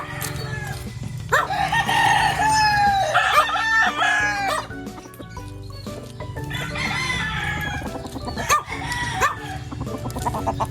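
A Boston bullstag gamecock in Rosario, Batangas crows loudly and clucks among other fowl. There are several drawn-out crows and clucks over a steady farmyard background, with no talking.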